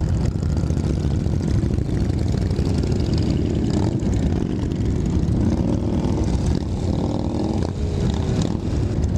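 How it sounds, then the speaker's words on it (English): A motorcycle engine idles in first gear during a large group charity toy ride, a constant droning rumble with other bikes around, steady throughout and no clear speech. "My bike is not doing well idling in first this long."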